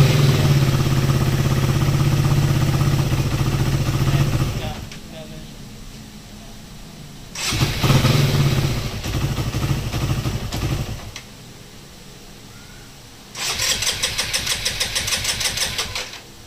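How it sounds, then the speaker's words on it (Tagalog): A faulty motorcycle engine that keeps stalling runs and sputters out, restarts and runs again, then dies and starts once more, with quiet gaps between the bursts. "Papansin nyo dun sa video na papatay-patay nga yung makina ng motor"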